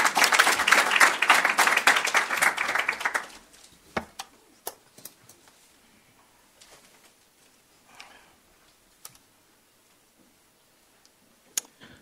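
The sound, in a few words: audience applause for a speaker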